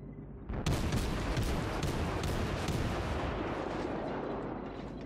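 German tier-three cruiser guns firing in World of Warships: a loud opening salvo after half a second, followed by repeated heavy booms that roll together into a sustained thundering barrage, fading slightly toward the end.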